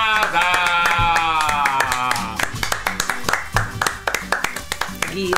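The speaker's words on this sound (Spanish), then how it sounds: "¡Aplausos," Hands clap at a birthday celebration, sharp rhythmic claps under loud singing and festive voices that fade, leaving a string of distinct claps.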